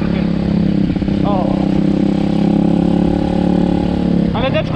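A small MRF 170 RC model engine runs with a steady, close buzzing drone throughout, while a voice chirps in briefly over it.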